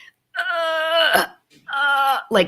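A voice imitates strained labor pushing with two drawn-out, groaning grunts, each ending in a breathy catch.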